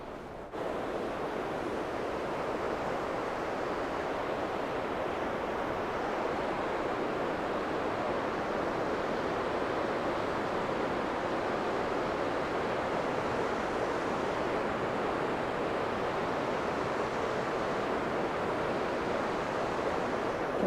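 A waterfall roars beside the Historic Columbia River Highway, its broad steady rush continuous and loud throughout, with no pauses or talk.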